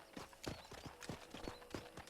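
Horse hooves clip-clopping at a steady trot in Red Dead Redemption for Xbox 360, a quiet, evenly paced run of hoofbeats with no talk over them.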